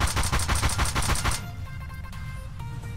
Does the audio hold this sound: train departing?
no